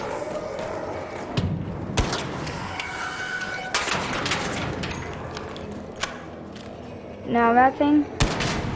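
ARC Raiders gameplay gunfire aimed at a drone's jets: scattered sharp shots and thuds amid combat clatter, with a voice talking over part of it.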